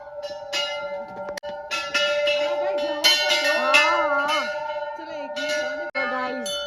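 Temple bells ring repeatedly at a hilltop shrine near Bhimtal, with overlapping clangs and long sustained metallic tones filling the space, loud and close, with no talk over them.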